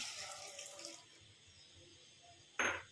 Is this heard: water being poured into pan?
yes